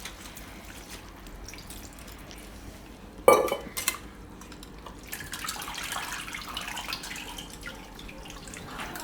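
Cold water is poured over boiled noodles in a kitchen sink: a brief metallic clatter of a pot, then a steady splashing, rushing flow that swells and continues to the end.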